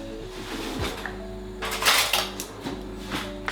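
Potatoes being mashed with butter in a pot, giving soft squelching thumps and scraping knocks of a masher against metal, with occasional clinks; no one speaks.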